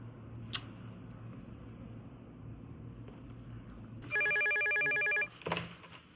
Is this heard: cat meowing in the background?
no